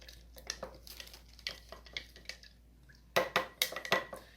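A utensil stirs milk and kefir grains in a jar, giving soft irregular scrapes at first and then a louder run of clinks and taps against the glass near the end, close and without voices.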